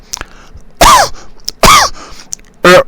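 Three harsh, loud coughing bursts come close together with short gaps between them, each a forceful, rasping hack.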